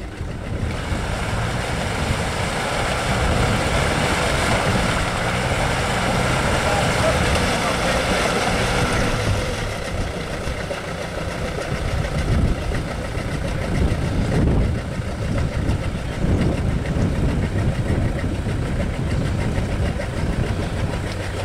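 A Bobtail Range Rover engine runs deep in a big mud hole, a steady rumbling drone with water and splashing noise, getting rougher and more uneven in the second half.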